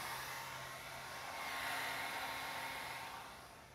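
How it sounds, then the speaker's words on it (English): A Mitre 10 hair dryer blows steadily over plastic window film with a soft, constant whooshing hum, fairly quiet and nearby, easing off slightly at the end. "use the Mitre hairdryer"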